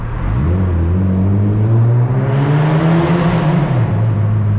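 A Mazda MX-5 NB roadster drives through a tunnel on a road in the UK, its engine a loud, close, steady drone whose pitch climbs and then eases as it pulls through, with the reverberant rumble filling the whole stretch.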